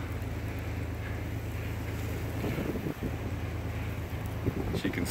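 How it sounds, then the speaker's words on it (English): Strong blizzard wind gusts in Fort Lupton, Colorado, during a March 2019 storm, a steady roaring buffet of air with wind noise on the microphone, rising and falling slightly throughout. "As you can see, the wind is pretty strong."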